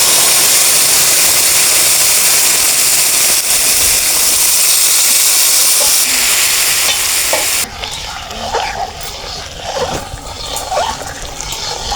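Lentils dropped into a hot wok with salt, turmeric and ginger-cumin paste for vegetable khichuri, a loud, continuous sizzle and steamy hiss close by, settling into quieter crackling and stirring.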